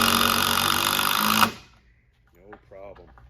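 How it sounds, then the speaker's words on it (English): Impact driver fitted with a Wiha Terminator Blue bit driving screws: a loud, steady buzzing hammer for about a second and a half, then it stops abruptly and a voice speaks briefly. "So let's drive these screws."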